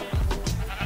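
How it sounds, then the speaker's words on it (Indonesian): A short goat bleat from Minecraft, a single wavering cry heard up close and clear. "Kambing, sini kambing."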